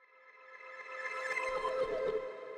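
A transition effect in a hard Detroit-style beat: layered tonal synth lines swelling over about two and a half seconds, with a low rumble joining midway as it builds, standing alone with no voices.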